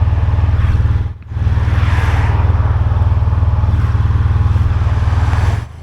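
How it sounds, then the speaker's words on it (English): A heavy motorcycle engine drones loud and steady up close while riding a rough, broken road, briefly dipping once before resuming its even throb. "It's a heavy bike I've got"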